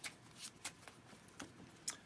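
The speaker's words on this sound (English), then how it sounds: "I'll shuffle these up." A regular deck of playing cards shuffled by hand during a magic trick, heard as a few quick riffling bursts and soft slaps close by, with no voices.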